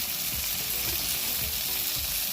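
Turmeric, cumin and coriander hit hot oil in a frying pan with chopped green chili for a chicken skin and calabash curry, giving a steady, close, continuous sizzle with faint stirring scrapes and no talk.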